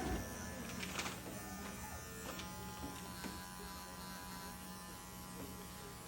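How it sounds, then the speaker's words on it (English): Electric clippers trim the hair of a Miniature Schnauzer on a grooming table, giving a steady close buzz with a few small handling clicks along the way. "then just use the corner of your clipper"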